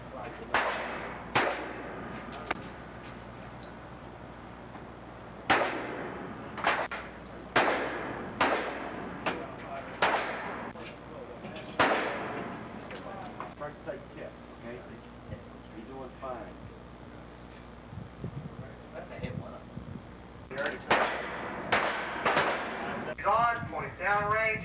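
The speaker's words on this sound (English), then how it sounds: "The command to commence fire has been given." Rifle fire on a Navy firing range during officer candidate training in Newport, Rhode Island: a series of sharp, loud single shots at uneven intervals, with spoken voices heard between the reports.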